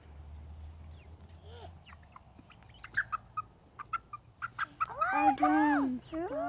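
A backyard chicken near a coop squawks in a run of sharp, rising cries that grow louder and more rapid toward the end, over quiet background noise.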